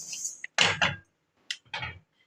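Roasted millets being tipped from one cooking vessel into another, giving a few short bursts of grainy clatter and metal scraping against the pan, close by with brief pauses between pours.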